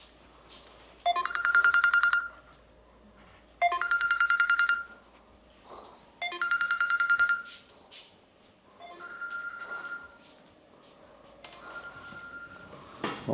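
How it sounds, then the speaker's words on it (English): A landline telephone rings in a home, three loud bursts of warbling electronic trill spaced a few seconds apart, then two fainter rings as it is carried into another room. "There's the phone."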